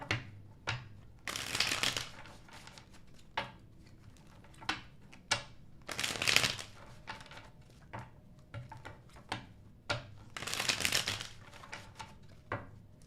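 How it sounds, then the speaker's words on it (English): Tarot cards being shuffled in repeated bursts, each a crisp riffling flutter lasting a second or so, separated by softer taps and handling sounds, close and fairly quiet with no talking. "2 more shuffles for super chat answers."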